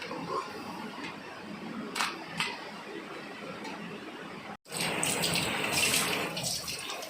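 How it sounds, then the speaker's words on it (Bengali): Tap water runs over pieces of mutton being washed in a kitchen, a soft, steady splashing hiss broken by a brief pause before it resumes more fully. "মাটন বেশি ধুইও না জলের তলায়, টেস্ট নষ্ট হয়ে যায়।"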